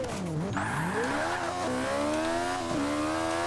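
Caterham R500 in Forza Motorsport 5, engine screaming up through the gears: loud, rising high-revving whine with quick drops at each of several rapid upshifts.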